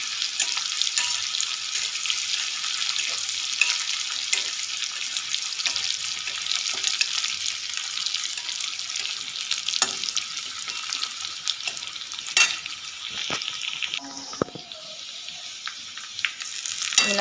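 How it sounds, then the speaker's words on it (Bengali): Garlic frying in a pan as the base for a Bengali bambel fish recipe, a steady bright sizzle holding for the whole stretch with a few clinks of stirring near the end, no voices. "আমি দিয়েছি রসুন, এটা একটু লাল করে ভেজে নিই"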